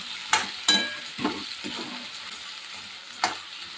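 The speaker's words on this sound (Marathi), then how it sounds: "तर बटाटा थोडासा फ्राय करून घेते," Potatoes frying in a pan with chilli masala for a home-style vegetable curry, giving a soft steady sizzle with a few sharp clattering stirs of a spoon against the pan.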